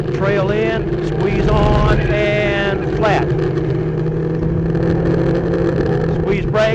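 Race car run flat out around Sebring, engine held at a loud, steady high-revving drone with gear-change shifts in pitch, recorded close from inside the car.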